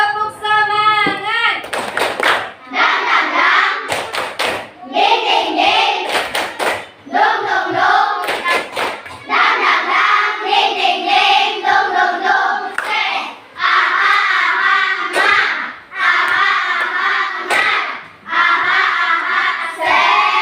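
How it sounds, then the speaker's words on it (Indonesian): A class of pupils performs the 'tepuk semangat 2' clap routine in a classroom lesson, bursts of rhythmic group clapping alternating with loud chanted voices, repeated in short phrases with brief pauses between them. "Mari kita lakukan bersama-sama tepuk semangat 2."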